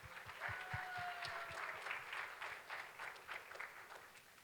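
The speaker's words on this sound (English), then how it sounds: "Let's give her all a round of applause again." An audience at a county youth summit claps in a sustained round of applause that sounds somewhat distant and faint, with a brief tonal whistle early on.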